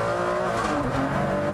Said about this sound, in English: you get that lovely V12 engine behind you, the blip of the down change that comes automatically